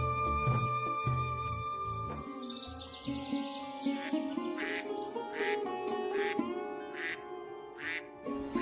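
Cartoon duck quacks loudly in a repeated run of bright, evenly spaced calls over a busy musical background in a Bengali fairy-tale animation about a black duck that lays golden eggs.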